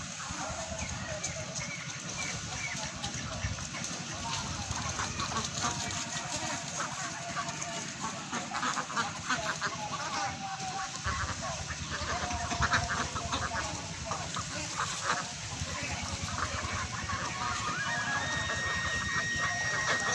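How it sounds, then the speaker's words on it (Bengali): A flock of ducks in a duck park, many of them white, quacks and chatters continuously at moderate distance, forming a dense, even wash of calls under outdoor noise. "দেখছেন কতগুলা হাঁস।"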